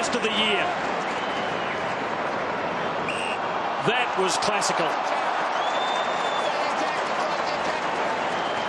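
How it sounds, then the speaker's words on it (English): A football crowd at a St Kilda versus Richmond match roars and applauds in a continuous wash of noise, with a commentator talking over it. "And the crowd watching it replayed on the scoreboard, giving another whoop of exultation and sheer spontaneous excitement at that"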